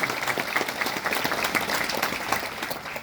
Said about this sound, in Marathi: त्यांचं टाळ्या वाजवून कृपया स्वागत करावे.